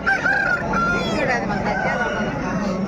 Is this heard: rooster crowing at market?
yes